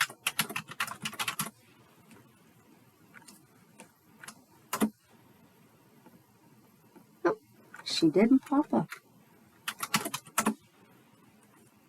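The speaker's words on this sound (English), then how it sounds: "I'm typing in the incorrect last name for her." Computer keyboard typing in bursts of quick, close key clicks separated by pauses, with someone briefly speaking between the bursts.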